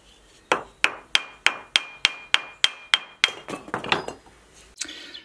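Sharp metallic hammer blows knock a bearing out of a small tractor, about a dozen in a steady rhythm, each with a ringing clink, then quicker, lighter taps before stopping.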